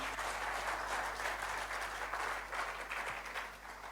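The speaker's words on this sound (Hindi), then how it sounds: "तालियां एक शानदार इनके लिए होनी चाहिए, आप सबके लिए।" Audience at a motivational seminar breaks into steady, dense applause, a continuous wash of many hands clapping at moderate distance, fairly faint, with no talking over it.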